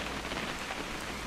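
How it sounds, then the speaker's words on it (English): Steady rain falls throughout in the video game What Remains of Edith Finch, a dense even hiss of drops on surfaces, continuous and moderately loud with no voices. "It's gonna rain the whole weekend, isn't it?"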